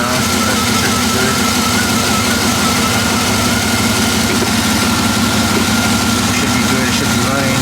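A single-cab pickup truck's engine idles steadily with a low, continuous rumble that stays loud and even throughout, with no speech over it.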